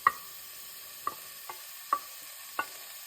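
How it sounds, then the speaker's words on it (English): Onions and vegetables sautéing in a pan, a quiet faint sizzle beneath five sharp, spaced clicks and taps of a utensil against the pan. "So I am going to add the onions, saute a little bit, and gradually add the rest of the vegetables."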